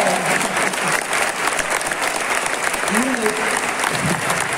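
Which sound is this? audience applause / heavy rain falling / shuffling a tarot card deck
audience applause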